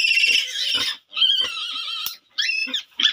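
A piglet squeals loudly in several sharp, high bursts with short gaps between them while its teeth are being cut.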